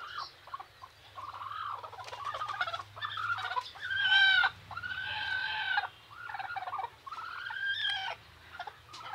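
A village hen sitting on a clutch of Kadaknath eggs gives a close run of repeated clucking, gobble-like calls in uneven bursts, with no talking.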